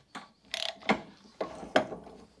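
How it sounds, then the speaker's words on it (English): Close mechanical clicking and ratcheting from a hand ratchet working on a tie rod of a Renault 5 GT Turbo, several short bursts of clicks in an irregular rhythm, no talking. "and then I can use a ratchet,"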